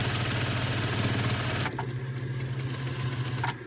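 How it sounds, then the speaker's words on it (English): A sewing machine edge-stitching the top of a bag: a fast, loud, steady whirring stitch rhythm for a moment, then dropping to a lower running hum with a few light clicks and taps as it slows. "And then stitch this down with an edge stitch."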